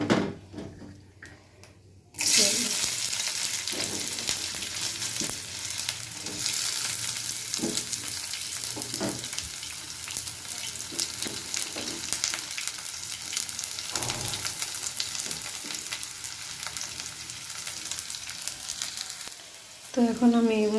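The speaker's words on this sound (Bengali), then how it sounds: "এখন আমি এখান থেকে পেঁয়াজটা দিয়ে দেব" Onion frying in a pan of oil with red chillies for a radish-greens stir-fry, a steady sizzle with occasional stirring scrapes over about twenty seconds, starting after a quiet opening moment.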